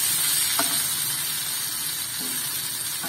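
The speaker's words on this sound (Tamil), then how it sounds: "இதே நல்லா கிண்டிக்கிட்டே இருக்கணும். அடி பிடிக்காம கிண்டணும்." Raw plantain slices frying in a pan on a medium stove, a constant close sizzle with a couple of soft scraping stirs.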